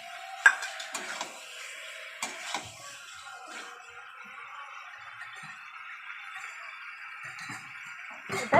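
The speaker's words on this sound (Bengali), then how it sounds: "কড়াইশুটিটা কড়াইতে একটু মেরে নেব" Green peas stirred in a wok with scraping spatula strokes and light clatter over a soft background hiss, with several sharper knocks.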